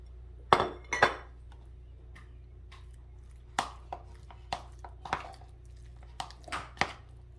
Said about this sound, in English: we're gonna mix the chives into the egg salad